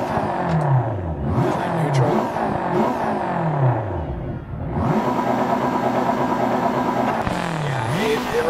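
Turbocharged four-cylinder rally car with a six-speed manual and 350 horsepower in Dirt Rally 2.0, its engine revving hard through repeated rising and falling sweeps, loud and close, with steady mechanical whir between bursts.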